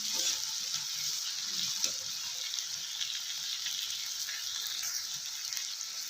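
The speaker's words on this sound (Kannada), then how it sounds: "ಟೊಮೊಟೊ ಚೆನ್ನಾಗಿ ಮೆತ್ತಗೆ ಹುರ್ಕೊಳ್ಳೋಣ" Tomatoes fry down soft in a pan for North Karnataka-style brinjal palya, giving a steady, moderate sizzle with faint stirring and scraping underneath and no talking.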